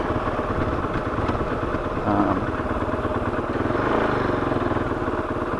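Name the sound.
KOVE 450 Rally motorcycle engine running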